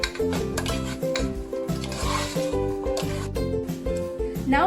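A spoon stirs carrots, beans and peas in a pan, with rhythmic metallic scraping and clinks against the pan over a faint sizzle, close and continuous.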